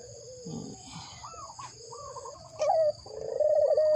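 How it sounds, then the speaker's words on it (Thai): Birds call in a morning cha-om vegetable garden, with soft dove-like coos and scattered chirps rising from a quiet background and growing a little louder toward the end. "เพื่อนๆ ฟังเสียงนกมันขัน"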